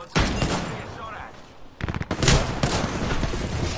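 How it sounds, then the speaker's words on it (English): Rapid bursts of video game gunfire crackle in close, dense volleys, pausing briefly before another heavy stretch of automatic fire, with a player talking over the shooting. "I'm getting shot from behind, I think."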